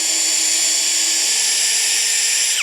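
A compact EMTOP two-mode cordless drill rated 55 Nm whines steadily at high pitch for a few seconds, close and loud, then cuts off abruptly.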